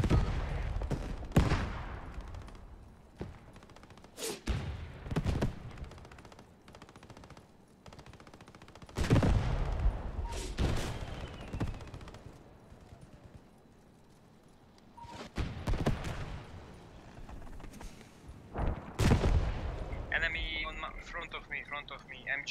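Machine gun fire in the WWII shooter Post Scriptum: repeated loud, sharp bursts and single shots at irregular intervals, some near and some distant, with voices talking between and over the shooting.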